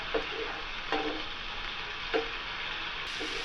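Mushrooms fry in a pan with salt, giving a steady, close sizzle and a few soft stirring knocks. There is no talking.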